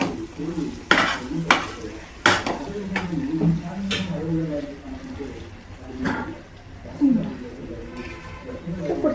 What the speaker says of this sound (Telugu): సో చికెన్ వేసి నీట్గా తిప్పాను